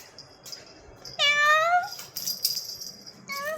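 A young female cat meowing indoors, two drawn-out rising and falling meows close by, the second shorter, over quiet room noise with no talk.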